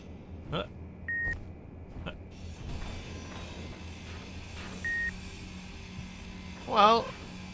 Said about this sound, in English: The remote control is beeping. It's part of the NPC capture mod that I use.